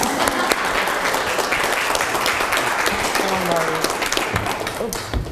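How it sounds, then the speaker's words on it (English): An audience at a televised county commissioner candidates' forum applauds, a full, sustained wash of clapping heard close and steady, with faint voices murmuring beneath it. "You can applaud, they're nice people."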